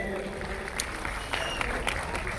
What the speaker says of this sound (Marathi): एकदा जोरदार टाळ्या होऊ द्यात जिमनबुवांसाठी